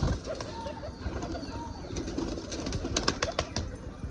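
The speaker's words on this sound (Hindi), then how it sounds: "ये देखिए सब निकल आया कबूतर अपना।" Pigeons coo softly outdoors amid a busy rustle, with occasional sharp flaps of wings toward the end; no one speaks.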